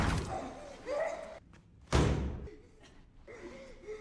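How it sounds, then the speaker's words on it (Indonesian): In a film scene, two people break through a door: a loud sudden slam and thud crash out in the middle, with gasping breaths and scuffling movement around it. "Dua orang menobrak pintu dan turun lewat tangga."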